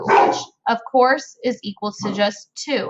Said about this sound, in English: I apologize for my dog having a spaz attack back there.